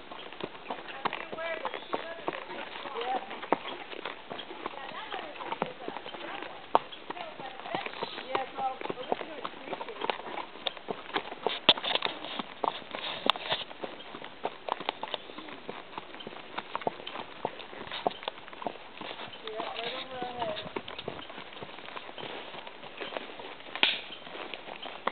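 Horse hooves clip-clop in a steady rhythm while out horseback riding outdoors, close and continuous through the whole stretch, with people talking quietly over the hoofbeats.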